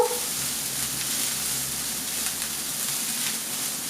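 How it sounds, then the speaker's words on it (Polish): Steady, close sizzling of leek frying in butter in a pan, a continuous bright hiss with no talking. "jego też na tym masełku będziemy delikatnie podsmażać"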